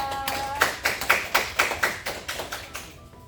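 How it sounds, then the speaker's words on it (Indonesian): Students in a classroom clap for a classmate after she answers at the board, a run of about ten distinct, fairly even claps at moderate loudness that stops just before the end. "Tepuk tangan dulu buat Dinda."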